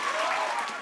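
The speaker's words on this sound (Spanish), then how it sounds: "Un aplauso fuerte." Brief burst of hearty applause from a gathering welcoming an archbishop among children in Madrid, continuous clapping under a hall's echo, lasting under a second.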